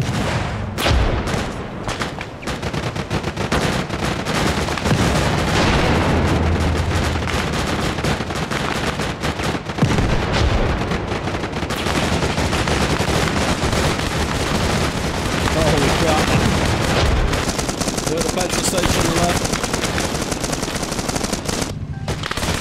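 Intense gunfire in the military video game Arma Reforger during a battle in Iraq near an armored vehicle, with rapid machine gun bursts and single shots overlapping continuously, loud and close, some heavier booms, and a voice faintly underneath.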